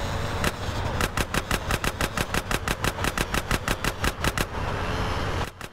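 Rapid automatic gunfire in GTA San Andreas, a loud, steady burst of about twenty close shots fired in quick succession over a vehicle engine rumble, then stopping abruptly.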